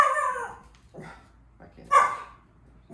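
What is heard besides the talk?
dog barking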